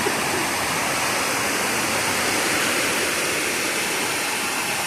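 Water of the Kutralam waterfall pours down in a dense, steady roar, loud and close, with no breaks or changes throughout and no voices over it.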